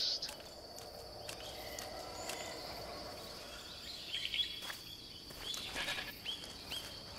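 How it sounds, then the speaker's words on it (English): A goat bleats a few times in Metal Gear Solid 3 over a steady bed of jungle ambience and bird calls, moderately loud and repeated in short bursts. "Oh, it's a goat."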